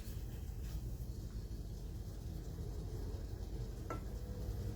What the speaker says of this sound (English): Then I just need to brown the meat.